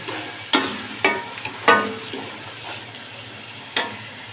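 A spoon scrapes and stirs spices frying in oil in a pot for beef pulao, four or five distinct stirring strokes over a soft, steady sizzle.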